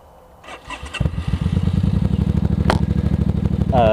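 A Suzuki C50 motorcycle engine cranks and fires up, then settles into a loud, steady, throbbing idle close by.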